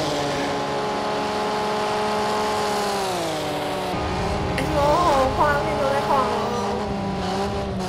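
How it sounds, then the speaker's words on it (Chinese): Race car engine from Project Cars 2, a Group A car at Texas Motor Speedway, held at high revs with a steady loud whine that shifts pitch as it changes gear, with tire or other car noise underneath. "在持续维持在高转的引擎声。"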